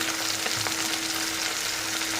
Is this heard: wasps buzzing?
no